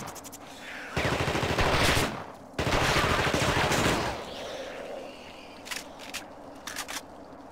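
A submachine gun in a cold-weather video game fires two loud sustained bursts of rapid automatic shots, each about a second and a half long, followed by scattered quieter clicks and shell-like rattles.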